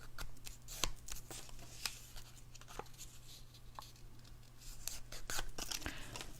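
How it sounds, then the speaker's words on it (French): Small paper labels are folded in half by hand for a pocket card, giving faint crinkles and soft creasing taps over a steady low hum, quiet and close. "on va tout simplement plier nos petites étiquettes en deux"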